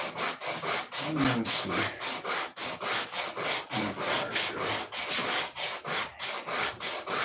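Hand sanding of a prop mold with coarse 80-grit paper, rhythmic back-and-forth rasping strokes repeating steadily and close up, with a brief muttered word in the middle.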